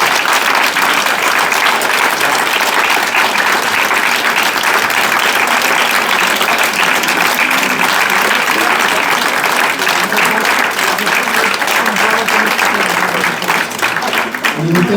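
Audience applause from a large crowd at a Klub 5k stage event, loud and dense, clapping continuously at steady intensity for the full stretch with no talk over it.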